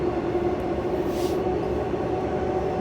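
An empty passenger train fresh from the depot runs on the Perth line toward Elizabeth Quay, a steady loud interior rumble with a constant mid-pitched drone and a brief faint hiss partway through.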